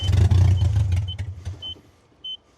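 A Ford F250 Tremor diesel pickup truck rumbles low and close at idle for about a second, then fades, leaving faint short electronic beeps.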